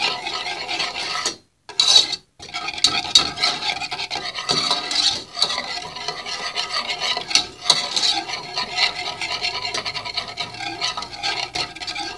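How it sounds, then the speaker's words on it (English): A red sauce whisked together in a pot as it cooks, brisk continuous scraping and rasping strokes close up for several seconds, with a couple of brief pauses and no talk. "Now you just have to whisk it up together, let it cook."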